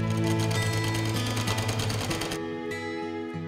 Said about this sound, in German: Also ich nähe diese Naht nochmal entlang, damit das hier fest sitzt.